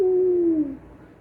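A single loud owl hoot on a misty jungle night, a steady low call held for about half a second and then trailing off, near and alone.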